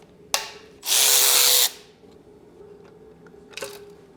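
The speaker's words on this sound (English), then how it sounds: "To get the nut off, I'm going to use an impact gun." An impact gun removes a nut from a BMW E39 M5 engine: a brief tap, then a loud, close burst of hammering whir lasting under a second, with a short second burst near the end.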